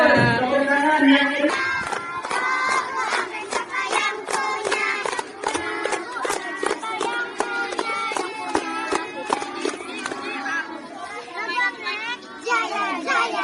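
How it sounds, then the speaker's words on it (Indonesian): Children clapping together in a classroom, a lively run of sharp overlapping claps lasting several seconds with chatter and voices mixed in. "Tepuk tangan"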